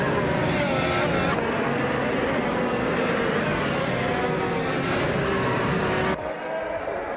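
Race cars in a racing video game, including Chevrolets, roar continuously at close range with layered engine whine and tire noise, holding a loud, steady drone before dropping off abruptly near the end.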